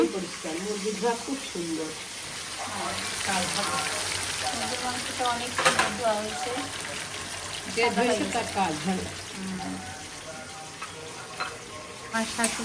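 Food sizzles and crackles steadily in hot oil while people talk over the frying throughout.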